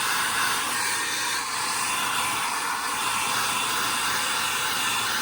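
A household hair blow dryer drones steadily and close while drying a long-haired water dog, a constant airy whir with no breaks.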